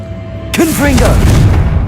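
A Confringo fire spell blast from Hogwarts Legacy sounds as one sudden booming burst with a swooping whoosh, then a rumbling tail that fades over a second.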